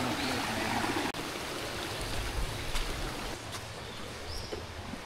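Waterfall spilling over large tree roots and a stream flowing through a forest, a steady broadband rush of water that stays near and constant throughout, with no voices.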